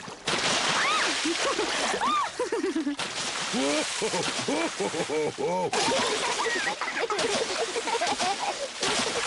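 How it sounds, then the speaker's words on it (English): Water splashes and sloshes repeatedly while excited voices shout and talk loudly over it. "Maybe that's enough splashing."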